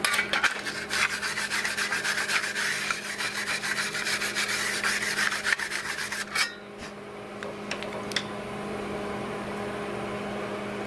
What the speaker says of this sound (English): let me get a little wire brush and clean them off.